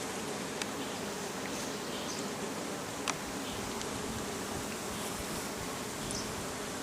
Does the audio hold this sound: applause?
no